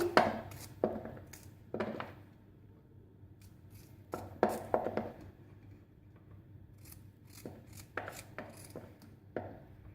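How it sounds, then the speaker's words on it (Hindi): A knife chops peaches on a cutting board for fruit salad, giving sharp, irregular knocks in small clusters, close and clear against a quiet background. "सबसे पहले आड़ू काटेंगे।"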